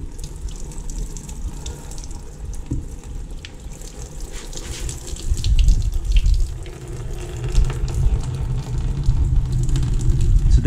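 Coolant drains out of a Benelli TRK 502X motorcycle engine with a continuous, close, rushing trickle of liquid that swells louder partway through.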